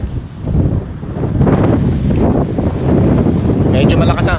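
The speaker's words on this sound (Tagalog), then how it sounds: "Medyo malakas ang hangin ngayon" Strong wind blows outdoors in Edmonton, Alberta, after rain, buffeting the microphone with a loud, continuous low roar. Voices are faintly mixed beneath it.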